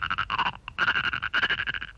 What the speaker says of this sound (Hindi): मेंढक की आवाज।